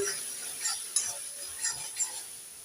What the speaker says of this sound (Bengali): এবার দিয়ে দেব একটু হলুদ গুঁড়ো আর লঙ্কা গুঁড়ো একটু নেড়ে চেড়ে দিয়ে দেব